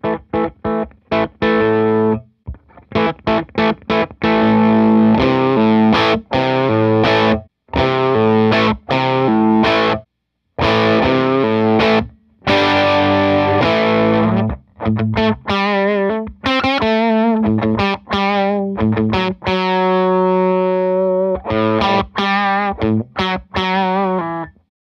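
Electric guitar played through a Lazy J model 20 amp with the mid boost engaged, loud distorted chords and sustained notes in short bursts separated by brief silent gaps, no talk.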